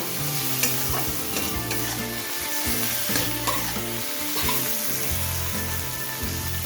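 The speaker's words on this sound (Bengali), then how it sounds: "এইবার টমেটোটাকেও আমি এখন সময় নিয়ে একটুখানি মশলার সাথে নাড়াচাড়া করে নেব" Chopped tomato fries with spices in a pan, a constant close sizzle broken by repeated rhythmic scrapes of a spoon stirring against the pan. No voices.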